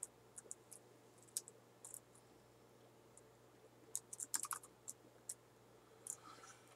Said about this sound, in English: Now watch when I start typing